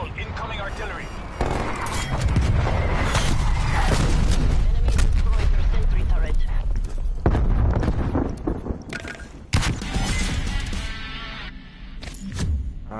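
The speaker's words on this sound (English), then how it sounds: "Death call, incoming artillery." Incoming artillery barrage in a shooter video game, a dense run of heavy booms and overlapping blasts rising to a loud rumbling peak, then scattered sharper impacts, with someone talking over parts of it.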